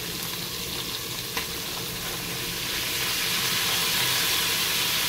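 Red onions fry in a Cookeo multicooker with a strong, steady sizzle and hiss that swells toward the end, with a single clack partway through.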